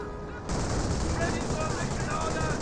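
An MG42 machine gun fires in a Company of Heroes 1 match, a continuous dense rattle of rapid gunfire that kicks in suddenly and holds loud and steady to the end.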